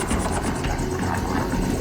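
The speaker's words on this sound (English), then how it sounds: "You feel the weight of the chopper" A helicopter flies over the Australian outback carrying a captured crocodile slung beneath it, its rotor and engine making a loud, steady roar throughout with no voices.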